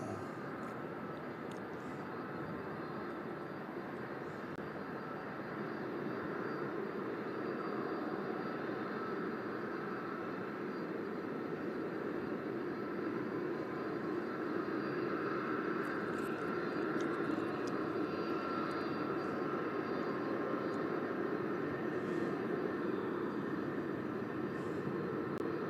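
Airplane taking off at Louisville International Airport, a steady broadband engine roar heard from a distance, swelling gradually and holding loud across the whole stretch with no talk.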